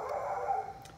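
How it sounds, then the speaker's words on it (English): A dog barks somewhere near a workshop where wheel bearings and rotors are being greased, giving a single short, moderately loud bark with no talk over it. "sorry about the dog barking"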